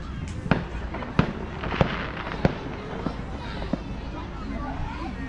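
Fourth of July fireworks at an old-fashioned small-town celebration in Sterling, Kansas, with about seven sharp bangs at an uneven pace over a steady murmur of crowd noise, moderately distant.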